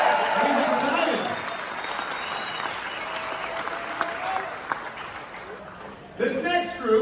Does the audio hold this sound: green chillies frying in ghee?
no